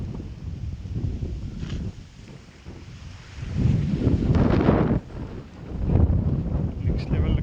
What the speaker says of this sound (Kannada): ನೆಕ್ಸ್ಟ್ ಲೆವೆಲ್ ಗಾಳಿ, ತುಂಬ ಗಾಳಿ ಬರ್ತೈತೆ